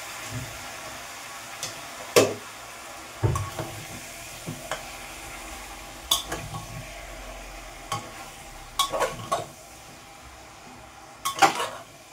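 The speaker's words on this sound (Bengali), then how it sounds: "একটু নাড়াচাড়া করে নেবো" Food being stirred in a cooking pot, with scattered utensil scrapes and clinks against the pot over a soft sizzle, several sharper knocks spaced irregularly, close and fairly quiet, no talking.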